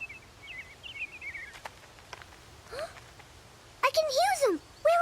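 Cartoon birds give a few faint, high twittering chirps in a quiet outdoor scene, followed by a brief rustle and then a character speaking.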